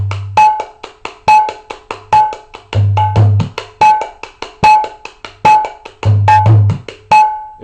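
A mridanga dayan rhythm opening with a ra stroke: rapid sharp ringing taps in a steady cycle, punctuated by resonant low booms, loud and close with no talking.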